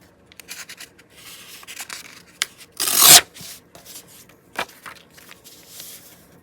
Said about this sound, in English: Okay, so we'll go just straight edge there, I think, and then I'll tear this side.